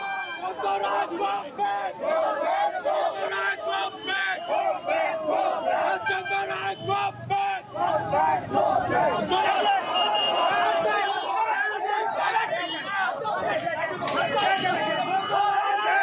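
An agitated crowd at Malbazar chants 'go back' slogans at BJP candidate Jayanta Roy, a loud, continuous mass of shouting voices with rhythmic calls rising above the babble.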